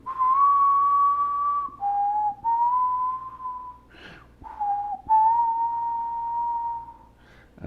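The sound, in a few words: person imitating a whistle melody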